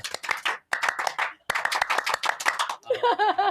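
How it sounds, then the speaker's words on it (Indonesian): Indonesian scout clap (tepuk pramuka) performed as rhythmic group clapping, bursts of sharp claps in a patterned beat with brief pauses, close and fairly loud, ending in laughter. "Tepuk pramuka."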